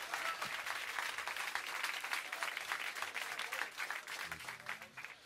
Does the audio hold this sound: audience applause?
yes